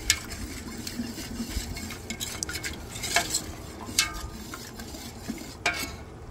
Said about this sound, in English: and I'm whisking it in